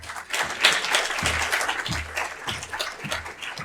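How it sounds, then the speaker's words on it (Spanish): Audience applause greets a speaker at a talk, a dense, steady wash of many hands clapping close and fairly loud for several seconds. "Un aplauso."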